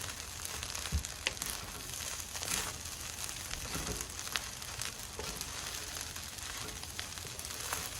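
Egg and rice being stirred in a wok for Filipino fried rice, a steady close sizzle with soft scraping and shuffling throughout, no talking.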